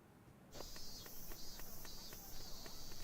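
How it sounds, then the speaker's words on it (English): Cicadas in the Shin chan summer vacation game set in up abruptly into a steady high-pitched buzzing drone with a faint repeating pulse, continuous and moderately loud over a quiet background. "Oh, we're back to cicadas again"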